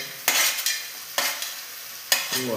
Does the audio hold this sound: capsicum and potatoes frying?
yes